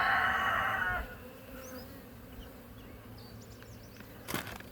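Honey bees buzzing around a hive with the queen still inside, a busy swarm humming steadily for about a second before dropping to a fainter, sparse drone with scattered wingbeats.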